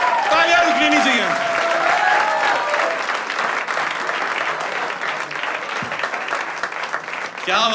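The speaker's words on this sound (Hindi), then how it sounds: "तालियां रुकनी नहीं चाहिए।" Audience at a stand-up comedy show breaks into loud, sustained applause that fills the room for several seconds, with a voice carrying over the clapping near the start.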